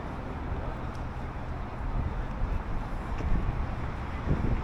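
Steady wind roaring across the Bund waterfront in Shanghai on a cold evening, a continuous low rumbling buffet on the microphone with faint distant traffic or boat noise underneath.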